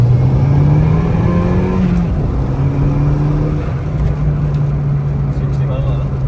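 Nissan Micra K11 with a 1.4 turbo conversion accelerating on the road from inside the cabin, a steady engine drone rising in pitch and then holding, with a shift partway through, while occupants talk over it.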